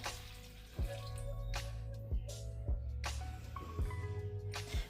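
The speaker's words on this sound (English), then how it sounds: "Now we're gonna add 200 mils of hot water with 2 teaspoons of coffee dissolved in it." Hot water with dissolved coffee goes into chocolate muffin batter in a series of close, wet liquid plops and glugs, about four distinct splashes, with no talking.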